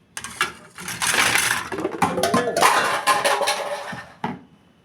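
Steel kitchen utensils and a metal sieve clatter and clink against each other as they are lifted out of a dishwasher, with a busy run of close metallic knocks that ends in a final clank.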